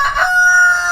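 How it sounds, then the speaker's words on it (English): A rooster crows once, loud and near, a short rising call that settles into a sustained, harmonic-rich final note with no talking over it. "So it looks like we got a rooster in"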